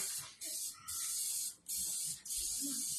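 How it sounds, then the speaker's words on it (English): Cooking oil spray hisses onto a cake pan in three sustained bursts, each lasting under a second, with brief pauses between them. The sound is close and bright, and there is no talking. "I'm just going to do oil spray."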